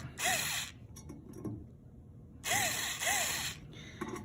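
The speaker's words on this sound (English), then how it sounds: "do each screw about 5 turns in a very loose fashion" Screws being turned by a ratcheting or powered driver into the pre-threaded holes of a BUD EXN Series enclosure cover, in two bursts of whirring and clicking at close range, with quieter handling taps between.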